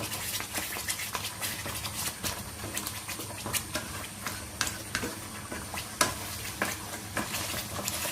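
A spoon stirs homemade lehyam with ghee in a pan, giving a steady run of scraping, sticky stirring noises over a soft sizzle, with irregular clicks of the spoon against the pan.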